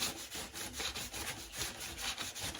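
Repeated back-and-forth rubbing strokes of a vinyl LP sliding in and out of its record sleeve, with a rasping, sawing quality, rhythmic and fairly quiet.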